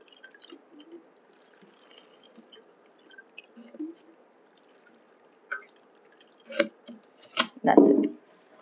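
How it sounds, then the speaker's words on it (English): Water poured from the top onto a plant in a semi-hydroponic pot, with soft scattered drips and trickles that build into louder splashy pours toward the end. "I'm just watering from the top"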